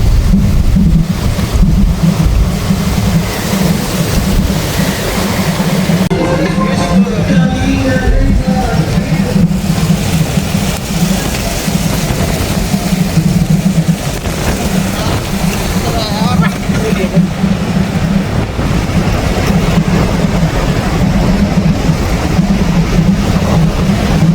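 Strong storm wind roars and buffets loudly by the sea at Point Pedro, with a deep, constant rumble, and a voice is faintly heard partway through.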